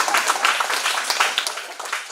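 Brief burst of clapping from an audience at a political event, a quick scatter of hand claps for about two seconds, fairly close and moderately loud.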